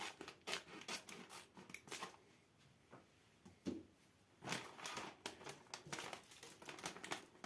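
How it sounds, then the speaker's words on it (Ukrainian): Scissors snip open a package of German Prot 9000 protein isolate powder, with a run of sharp, close cutting clicks and crinkly plastic rustling in short bursts, no talking. "я заготував ножиці, щоб нормально відрізати"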